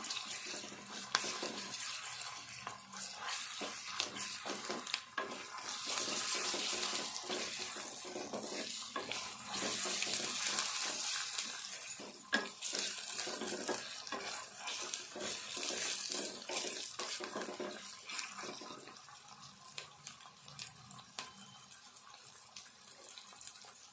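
Ginger garlic paste sizzles and crackles steadily in a hot oiled pan, with green chillies and onion, for a bitter gourd fry. The frying hiss is continuous and fairly close, with no voices.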